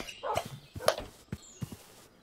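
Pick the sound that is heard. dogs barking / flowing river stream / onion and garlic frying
dogs barking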